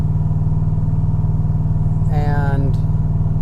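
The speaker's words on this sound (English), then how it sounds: "Good news. Got the car running again." A C4 Corvette engine runs with a loud, steady low rumble and even pulsing idle throughout, while a brief higher whine rises over it midway.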